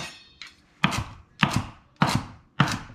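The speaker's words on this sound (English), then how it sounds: "And then a quick chop chop" Four sharp knife chops on a cutting board while making an impossible pie, evenly spaced and close, after a faint lighter scrape, with no talking.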